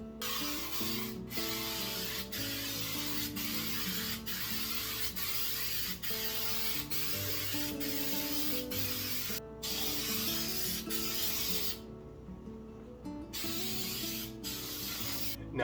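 Spray primer applied in multiple thin coats to a dishwasher panel being disguised as cottage-style kitchen cabinetry, a steady close hiss running almost continuously with a few brief pauses between passes, and no talking.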